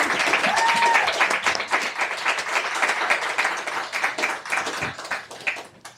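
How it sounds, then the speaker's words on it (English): An audience at a talk on Latin American avant-garde networks gives an incoming speaker a warm round of applause, sustained dense clapping with crisp individual claps that slowly thins out over several seconds. "I would like to ask for a warm welcome to our first speaker, José-Carlos Mariategui, with a round of applause"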